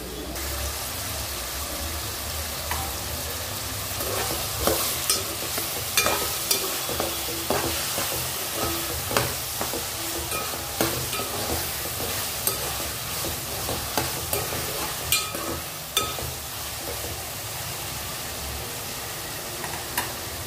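Chopped tomatoes sizzle and stew in a pan for chutney, a steady low frying hiss broken by irregular clicks and scrapes of stirring, close and without talk.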